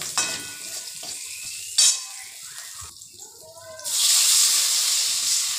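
Water poured into spices frying in a pan for a hilsa and eggplant curry, with a sudden loud rushing hiss that takes over near the end; a voice speaks over the earlier frying.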